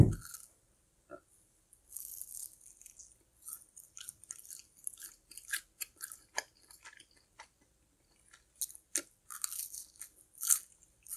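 Crunchy bites and chewing of fried cheddar cheese curds, a string of close, sharp crackles and smacks with short pauses between them, with no talking.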